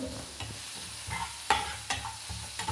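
Fish fries in a pan with a soft, continuous sizzle, broken by repeated scraping clatters of a utensil stirring at irregular intervals, close and moderately loud with no talking.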